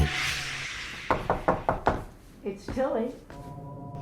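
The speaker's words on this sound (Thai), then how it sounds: "ส่วนทางด้านป้าทิวลี่เธอก็มาเคาะห้องของฟาติมา" Knocking on a room door, a quick series of about five sharp raps in a row, followed by a voice speaking.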